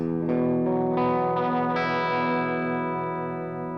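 Electric guitar through a distorted amp sound, open-voiced chords strummed and left ringing with effects and slight echo, a few chord changes building then slowly fading, alone without speech.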